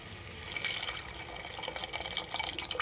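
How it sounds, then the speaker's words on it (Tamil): Cooked lentil water is poured from a pressure cooker into a pan of wedding-style sambar. A steady, splashing pour runs continuously for about three seconds at moderate volume, with no talking. "இந்த பருப்பு தண்ணியை அதில் ஊற்றிக்கலாம்."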